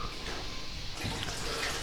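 Water runs constantly in a basement sump pit, a faint, steady rushing wash heard in a room nearby, continuous and with no talk.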